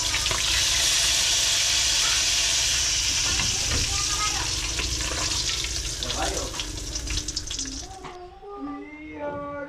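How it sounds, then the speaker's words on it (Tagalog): Garlic and onion sautéing in a hot pan give a loud, steady close sizzle for about eight seconds, then it drops away to quieter scattered clinks and stirring. "gigisa ko na ang bawang, sibuyas"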